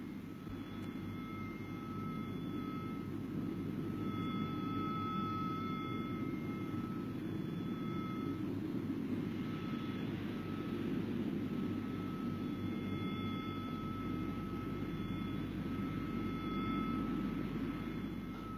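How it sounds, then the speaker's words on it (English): Military jet aircraft over Falkland Sound in 1982, seen from a frigate, roar as a steady, continuous engine rumble at moderate distance, with no talk. "this film of planes being shot down on the same day"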